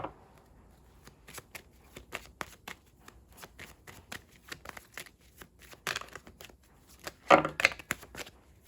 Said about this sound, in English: That's a lot of cards. I'm sorry. I'm just going to reshuffle real quick.